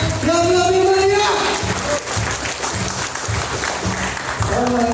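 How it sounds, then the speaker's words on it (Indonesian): Seminar audience applauding loudly and steadily throughout, a dense wash of clapping with a voice speaking over it at the start and end. "Beri tepuk tangan Pak yang meriah, yang lebih meriah, yang lebih meriah."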